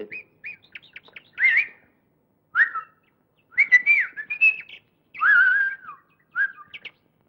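Small caged songbirds chirp and whistle in quick bright bursts with short pauses between phrases, close and clear with no talking.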